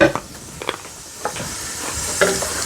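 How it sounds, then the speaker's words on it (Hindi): Potatoes and carrots being fried in a pan, giving a soft continuous sizzle with a few close scraping stirs and a brief clink near the start and end. "देखो यहाँ पे जी अच्छी तरह से आलूओं को और गाजरों को जी हमने भून लेना है"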